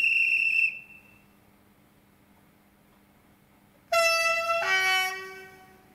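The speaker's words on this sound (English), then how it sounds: "A lot of them have a guard's whistle, but this one has a driver's response as well" A model train's guard's whistle blows once, shrill, then after a pause the driver's response, a louder, brighter multi-tone horn, sounds and fades out; Bachmann class 57 locomotive.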